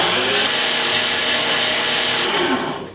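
Electric meat grinder mincing meat with yellow onions, a steady loud motor whir running without pause and easing off at the very end.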